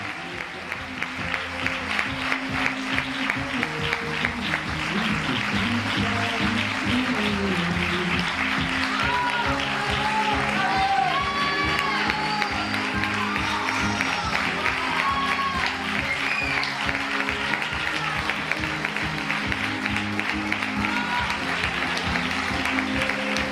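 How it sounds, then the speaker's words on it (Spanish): Sustained audience applause in a village tribute welcoming a record-setting Spanish athlete, many hands clapping in a steady, lively rhythm for over twenty seconds, with music and scattered voices and cheers blended in. "Recibámosla con un fuerte aplauso."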